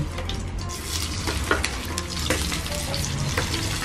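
Slices of Spam frying in hot oil in a pan, a steady dense sizzle and crackle throughout with occasional sharper pops as pieces settle, close and fairly loud with no talking.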